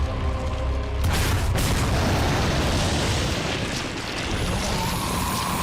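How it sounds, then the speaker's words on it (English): A rocket launcher fires at the boss Salazar in Resident Evil 4, opening with a sharp blast and rolling into a long, loud, dense explosive roar that holds steady for several seconds. "And now get the rocket launcher ready as soon as the Salazar comes out."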